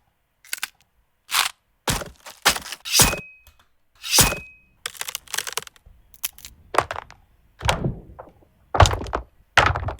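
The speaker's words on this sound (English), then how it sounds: "So let's go to the bone break section here." A series of separate sharp cracks and crunching snaps, like bones breaking, play one after another with short silences between them.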